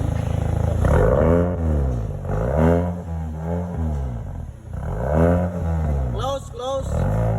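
A GAC car's engine with its exhaust opened in sports mode, revved up and down in several repeated pulls, each rising and falling in pitch; loud and close, with short pauses between revs.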